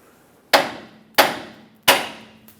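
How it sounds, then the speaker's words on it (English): A hammer strikes the steering knuckle of a 2003-2009 Dodge Ram 2500 to free the right outer tie rod, three sharp metallic blows at even intervals, close and loud, then a fainter tap. "You can hit the side of the knuckle with a hammer"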